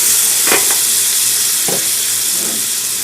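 Onions frying in a pan ahead of adding beef, a steady close sizzle and hiss with a few scraping stirs of a spatula cutting in.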